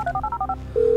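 A phone dials in the video game GTA V: a quick series of about six DTMF keypad tones, followed by a steady ringing tone starting near the end.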